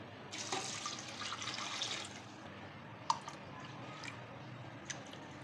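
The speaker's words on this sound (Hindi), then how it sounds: "इसमें मैं 2 लीटर वाटर डालूंगी।" Water, about two litres, pours steadily into a pot for mutton yakhni pulao. It makes a soft, continuous splashing rush lasting a couple of seconds, followed by faint drips and small clinks in a quiet kitchen.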